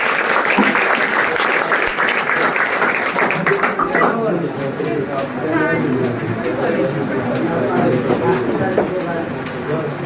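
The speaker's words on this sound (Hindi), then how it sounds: "चलिए इनके लिए जोरदार तालियां हो जाए।" An audience at a physics coaching centre honouring ceremony claps loudly and steadily, a dense burst of applause that thins out midway as a voice talks over it.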